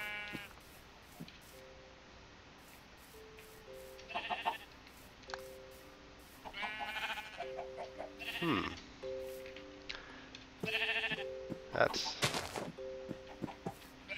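Repeated sheep bleats in Minecraft, several calls scattered over steady background music, with a few sharp percussive hits.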